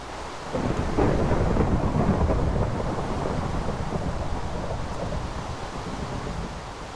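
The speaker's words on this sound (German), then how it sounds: "Diesen Gewitter." A thunderstorm rolls through the Minecraft modpack Die Insel 2, with a loud, deep rumble of thunder that swells early and then holds over continuous heavy rain and wind.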